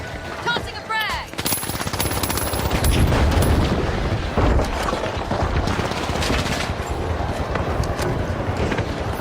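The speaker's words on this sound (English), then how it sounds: "Frag grenade out! Tossing a frag!" Frag grenade blast in The Finals amid a dense firefight, loud bursts of rapid gunfire and booms layered over one another with a voice calling out early on.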